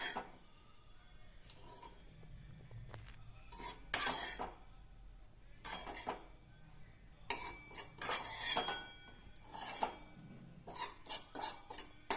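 A spoon scrapes spiced yogurt dahi tikhari from a steel pan into a serving dish, making repeated close rasping scrapes and clinks in uneven bursts with quiet gaps between.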